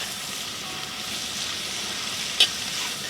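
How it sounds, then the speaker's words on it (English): Garlic and chopped vegetables with cilantro sautéing in a hot pan, a steady close sizzle and crackle with one brief sharper spit partway through. "let that saute a little bit,"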